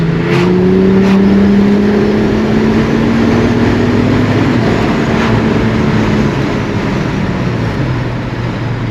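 A turbocharged Holden VL engine on a dyno, pinging from too much boost, revs loud and steady, its pitch rising then slowly falling in one long sustained pull with no talk.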